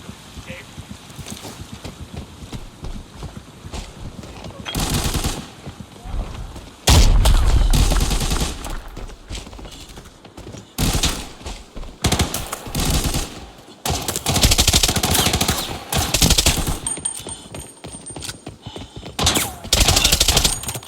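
Gunfire sounds in the video game Arena Breakout, including sniper rifle fire: loud, booming bursts of shots come in clusters over a constant rumbling background.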